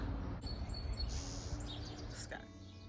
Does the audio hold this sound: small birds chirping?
yes